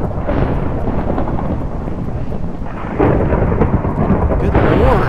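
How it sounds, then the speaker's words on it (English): Thunder rolls loudly in Minecraft during a storm, a deep continuous rumble with rain hiss that swells to a heavier crash about midway, filling the whole stretch without talk. "Shut up, Thunder!"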